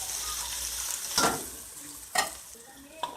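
Chickpea curry masala with coriander, ginger and garlic paste frying in a pan for Lahori chikar cholay, a soft steady sizzle punctuated by three sharp stirring and splash bursts as water is sprinkled in.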